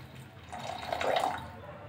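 Dissolved tamarind water pours into a cooking pot in a short, swelling gurgle of liquid that rises and fades over about a second, close and fairly soft, with no voices.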